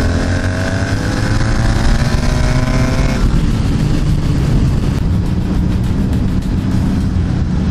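A Honda V65 Magna and a Suzuki GV 1200 Madura race side by side with loud, close engine roar, rising in pitch through the gears before settling into a steady, gritty drone.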